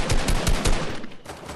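Fortnite gunfire on PlayStation 5: a quick run of several close, booming shots in an uneven rhythm, then a short trailing fade, with no speech.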